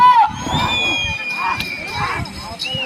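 A crowd shouts, cheers and claps loudly throughout a prize-winning performance at a competition in Bapatla district, with high whistles cutting through the dense, steady roar.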